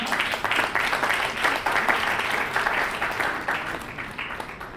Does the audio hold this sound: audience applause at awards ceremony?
yes